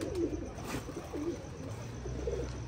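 Pigeons in a loft give soft, low cooing calls, three rolling coos spaced across a couple of seconds over a quiet, steady background.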